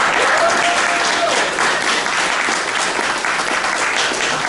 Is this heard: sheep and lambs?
no